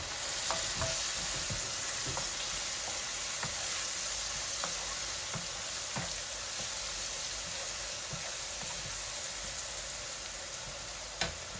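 Onion fries in a pan, a continuous close sizzle and hiss with occasional faint stirring taps, steady throughout and with no talking.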